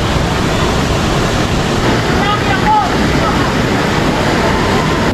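Talon Pari waterfall in Doña Remedios Trinidad, Bulacan, with strong water flow: a loud, constant broadband rush of falling water, close and unbroken, with no talking.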